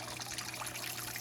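Water trickles and cascades down one end of a waterfall aquarium tank, a continuous gentle babbling flow, close and fairly soft with no talk.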